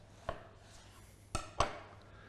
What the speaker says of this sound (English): We call this the loin steak, and we would typically cut it sort of like that